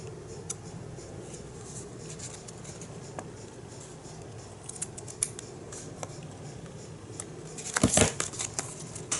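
Scissors snip through paper for scrapbooking, faint close snipping and rustling, with a louder burst of cutting and handling near the end, no speech.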